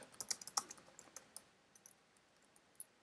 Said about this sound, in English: Oh, I can't type.